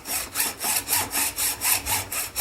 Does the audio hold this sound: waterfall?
no